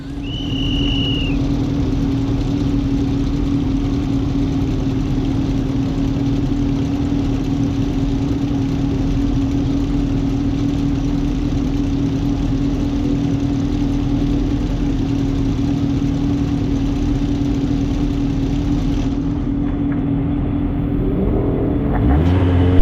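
Several single-seater race car engines drone and rumble together on the starting grid for a long stretch, loud and steady, with no one speaking.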